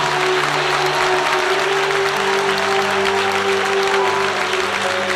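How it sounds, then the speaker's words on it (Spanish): Pentecostal congregation applauding steadily at a regional church retreat, a dense continuous wash of clapping with a sustained musical tone underneath and no speech. "Alguien puede aplaudir más fuerte al Rey en esta hora."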